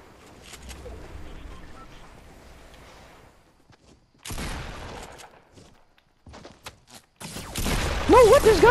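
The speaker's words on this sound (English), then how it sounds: "There's guys on the one side shooting at us!" Enemy gunfire in Fortnite battle royale pops in scattered volleys at moderate distance, fading and returning in bursts, with a player's excited voice and other game sounds layered over the shots.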